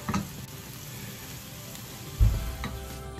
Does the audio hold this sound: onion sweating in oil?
yes